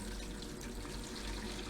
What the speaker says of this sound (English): I'll pour the rinses in this bucket